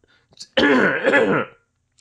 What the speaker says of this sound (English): everyone loves when you clear your throat on the radio